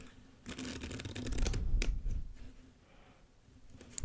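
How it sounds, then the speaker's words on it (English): Playing cards are shuffled close to the microphone, a quick riffling flutter followed by softer sliding and pushing of the deck together. "shuffle them face down into face up, like that"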